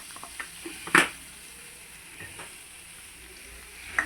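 Water boils steadily in a pot, a soft continuous bubbling hiss with a few faint clinks and one sharper knock near the start.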